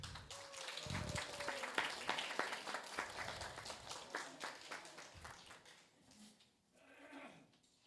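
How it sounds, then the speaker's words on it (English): A crowd at a Cypress Village community meeting applauds the employees with sustained, fairly distant clapping that thins out near the end, and a voice is briefly audible. "Let's give the employees a big round of applause."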